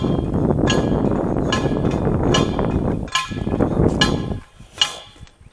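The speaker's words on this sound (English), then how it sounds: "over there hammering." Repeated metallic hammer strikes ring out at an uneven rhythm, about one per second, over a loud rumbling background noise.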